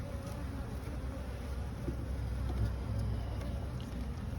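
Honeybees buzz steadily in an open spring hive, a dense continuous drone close by with a few louder individual bees passing near.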